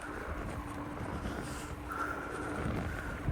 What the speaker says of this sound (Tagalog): Tugnog yun ang hangin guys oh.